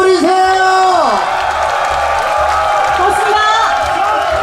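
Loud crowd applause and cheering at an outdoor festival stage for a trot singer, a dense continuous roar of clapping and whoops with a sustained voice or music tone over the opening second.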